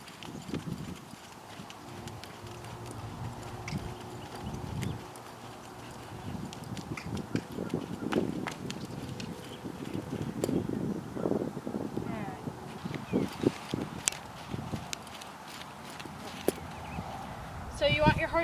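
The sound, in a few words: horse hooves walking and jogging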